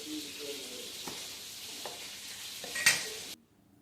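Chicken pieces sizzle steadily in a hot pan for a quick stir-fry, a soft continuous frying hiss with a few light utensil taps, ending abruptly in near silence.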